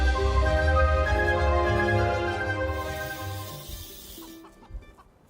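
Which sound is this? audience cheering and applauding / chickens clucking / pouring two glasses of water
chickens clucking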